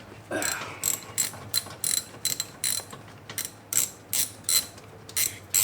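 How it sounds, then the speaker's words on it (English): A hand ratchet loosens the bolts on a brake caliper, producing about a dozen short, crisp bursts of clicking in a quick, uneven rhythm, heard close and alone. "we're going to go ahead and just loosen up these two bolts"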